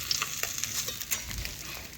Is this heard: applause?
no